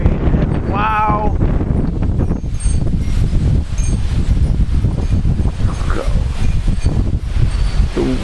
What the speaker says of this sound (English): The wind is picking up here, surprisingly enough.